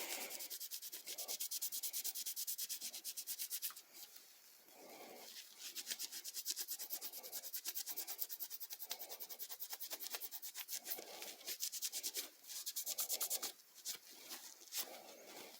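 A cloth rag rubs metal polish off a pair of pliers in quick, steady back-and-forth strokes, a close, dry scrubbing rasp that goes on without pause and with no voices.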